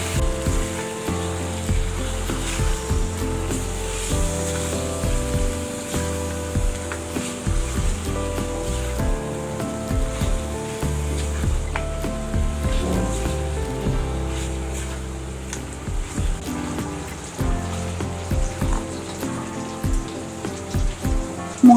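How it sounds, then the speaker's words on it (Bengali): Drained goat meat sizzles after going into spice paste fried until the oil separates, a steady close crackling hiss lasting the whole stretch with soft music in the background. "মশলা কষে তেল ভেসে উঠলে দিয়ে দিয়েছি পানি ঝরানো খাসির মাংস"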